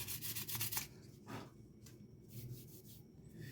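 Back-and-forth rubbing of 400 grit sandpaper over a composite decking piece, a close, quiet, steady scratching with a few brisk strokes, with no voices.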